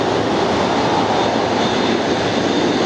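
A jet airplane at Atlanta airport roars with a steady, broad rumble that stays loud and constant throughout, with no voices.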